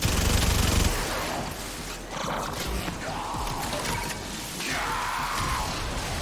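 Dense, loud gunfire from the shooter video game Warframe runs without a break. Rapid shots blend with mechanical whirs and impact crashes in a busy combat mix.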